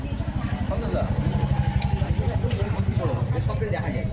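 Several parked motorcycles, including a Yamaha FZ-X, idle together outdoors before a roadside puja, a steady rhythmic low engine throb with quick regular pulses running throughout, close and fairly loud, with people talking over it.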